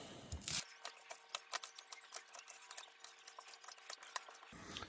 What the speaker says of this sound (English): cut the ends off, and then we'll just cut them on a diagonal